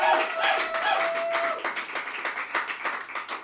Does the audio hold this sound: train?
no